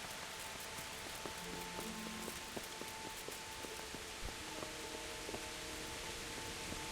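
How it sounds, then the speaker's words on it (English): Steady rain falls in the medieval game Kingdom Come: Deliverance, a constant broadband wash with scattered faint clicks and soft tonal game sounds over it, continuous and even throughout. "The rain's getting into it."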